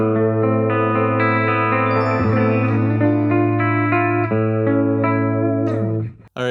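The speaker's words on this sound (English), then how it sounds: "This is more of a chorusing sound." An electric guitar played through the chorus modulation effect of a Positive Grid Spark 40 amp rings out in sustained, shimmering chords and notes, loud and close, before cutting off abruptly near the end.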